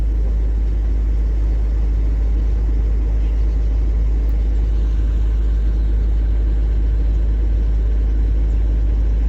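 Deep, steady rumble from a combine harvester engine running continuously, loud and close, with an unbroken low drone for the whole stretch.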